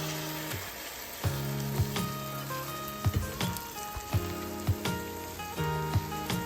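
Egg mixture sizzling steadily in a hot pan for a breakfast frittata, a loud continuous fry punctuated by occasional scraping knocks of a utensil.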